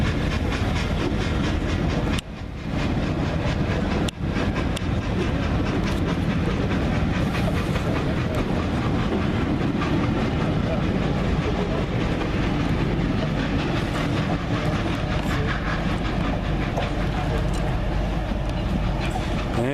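Steam locomotive 60009 Union of South Africa pulling away with its train, a loud continuous rumble and hiss with rhythmic clatter of wheels on rails, sustained and fairly close throughout.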